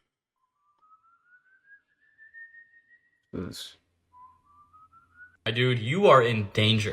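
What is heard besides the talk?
eerie whistling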